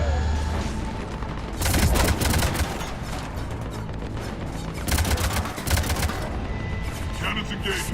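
Heavy cannon fire in the Mass Effect 3 Omega mission: loud repeated bursts of booming shots and crackling impacts that keep firing over about eight seconds, with one intense volley near the start and another near the end.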